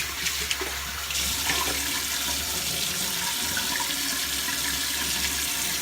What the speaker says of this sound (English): So let's just rinse off the razor.